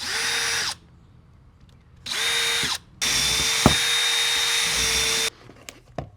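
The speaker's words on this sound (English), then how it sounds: "I'm going to pre-drill, just because I don't want the wood to split." A power drill whines in three bursts, pre-drilling wood for stainless steel screws, the last one longest, with short quiet gaps and a small knock between.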